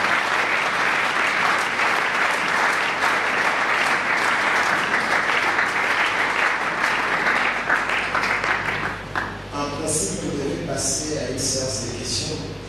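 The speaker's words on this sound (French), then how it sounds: "Est-ce qu'on peut encore acclamer très bien le Seigneur?" A church congregation applauding to acclaim the Lord, sustained loud clapping from many hands that fills the room, then thins out into scattered claps under a speaking voice near the end.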